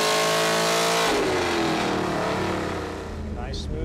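An LS7 Corvette V8 with a wet-sump conversion screams through a full dyno pull, rising steadily in pitch and very loud, then lifting off and dropping away near the end.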